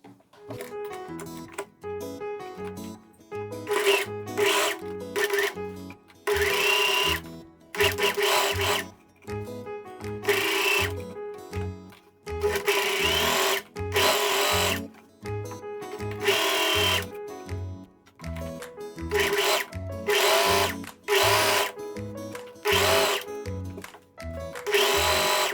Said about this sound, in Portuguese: eu preciso costurar nessa bordinha aqui do início do elástico